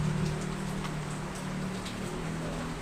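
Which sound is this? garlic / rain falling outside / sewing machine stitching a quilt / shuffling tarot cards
rain falling outside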